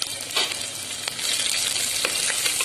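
Shallots, garlic and dried red chillies fry with fenugreek seeds in hot oil for a Tamil fish gravy, giving a dense, steady sizzle with small crackling pops throughout and no voice.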